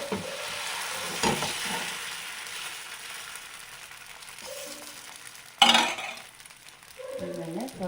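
Moong dal ragi dosa batter frying on a hot pan, a soft steady sizzle broken by scraping and stirring, a sharp metallic clink and utensil taps, with someone talking through it.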